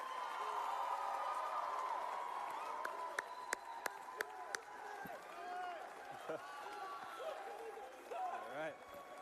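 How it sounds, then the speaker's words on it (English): Crowd at Politicon applauding and cheering steadily throughout, with a few sharp claps and whoops standing out near the start and a voice talking over the noise. "I want you to give a huge Politicon round of applause."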